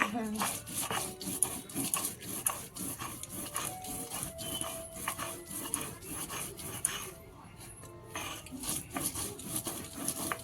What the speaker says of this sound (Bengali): জিরে বাটা চলছে জিরে একবার পিসলে হয় না দু তিনবার পিসতে হয়